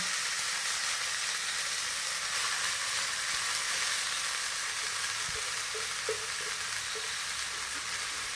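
Spinach wilting in hot oil gives a steady, soft broadband sizzle throughout, fairly faint and even, with a few light clicks of stirring and no voices.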